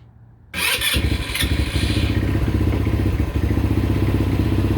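A 2019 Tao Raptor 200cc ATV engine fires up on choke after near silence, catching with a few rough sputters and then settling into a loud, close, rapid idle chatter with no talk.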